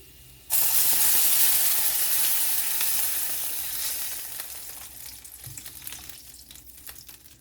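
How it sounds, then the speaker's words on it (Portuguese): Gyoza in a hot pan burst into a loud, sudden sizzle as hot water is poured in, then a hissing, steaming crackle that slowly fades. "eu vou baixar o fogo e colocar um pouquinho de água quente"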